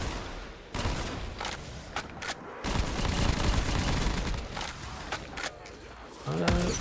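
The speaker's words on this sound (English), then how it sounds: "Let's use up the AUG while we're here" AUG rifle fire in Black Ops 3 Zombies: repeated sharp shots and short bursts, loud and close, broken by brief pauses amid game noise, with thumps and footsteps mixed in.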